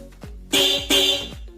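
Yamaha R15 V3 motorcycle horn sounding in two short, loud blasts about a third of a second apart, with brief low clicks between them, close by and heard alone.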